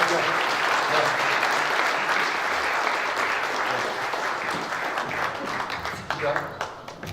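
Audience applause at a gathering, sustained clapping from many people that slowly thins and fades toward the end, with a voice faintly beneath it.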